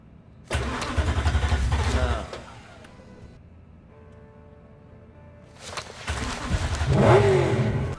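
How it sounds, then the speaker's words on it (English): A car engine cranks with a loud rough burst, drops to a quiet lull, then cranks again and catches, revving up loudly. "After the third attempt, she was relieved to hear the loud, violent outbursts of the engine when it finally turned over"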